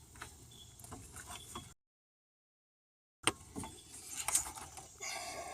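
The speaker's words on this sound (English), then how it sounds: "I'll just take the hoses off." Hoses being pulled off a 2000–2004 Toyota Avalon 3.0L V6 engine during mount replacement, faint rubbery rustles and small clicks and clanks, briefly cut to silence midway, then a sharper knock and more handling noise.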